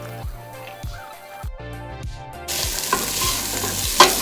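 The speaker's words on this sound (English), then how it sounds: "I'm going to go ahead and throw in my carrots right into the pot" Carrots are tossed into a pot of hot oil for vegetable soup; after a quieter stretch with music in the background, a broad, loud sizzle erupts partway through and keeps hissing, with a sharp clatter near the end.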